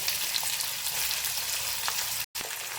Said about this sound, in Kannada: ನನಗೆ ಸ್ವಲ್ಪ ಗೋಲ್ಡನ್ ಕಲರ್ ಬರಬೇಕು ಅಲ್ಲಿವರೆಗೂ ಸ್ವಲ್ಪ ಫ್ರೈ ಮಾಡ್ಕೊಳ್ಳಿ